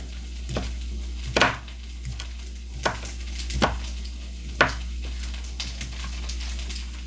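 Potatoes sliced thin on a cutting board: sharp knife chops land one at a time at an uneven pace, about eight in seven seconds, close and distinct over a low kitchen hum, with no talk.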